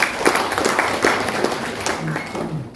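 A seated audience of civil servants at a Ministry of Religious Affairs guidance session in Pasaman gives a short burst of uneven clapping, with a voice speaking over and after it.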